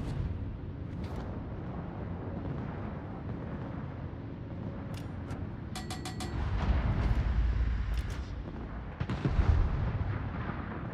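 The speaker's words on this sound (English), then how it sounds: "All stations, concentrate fire on the target." Battleship main guns thunder in World of Warships as a Tier 7 USS Florida battle plays out, heavy low booms rolling in over a steady background rumble, with a couple of louder blasts standing out.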